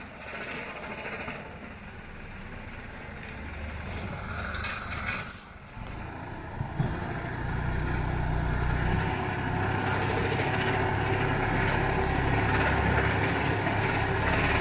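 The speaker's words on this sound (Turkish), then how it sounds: "Biraz geliyor traktörü getiriyor sonra vinçle kavağa çekiyor." A tractor with a winch pulls felled poplar trees, its engine droning steadily and loudly throughout, with a brief dip midway before a rougher, heavier pull sets in.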